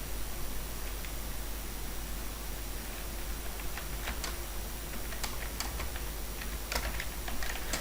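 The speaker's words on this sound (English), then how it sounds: "let me type" Keys clatter on a computer keyboard in irregular bursts of quiet taps over a steady hiss of background noise, close but faint, with no voices.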